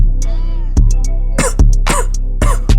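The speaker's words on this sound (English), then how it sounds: "Coughing on this track." Several harsh coughs and throat-clearing bursts, loud and close, in uneven clusters over a steady low musical beat from a rap track.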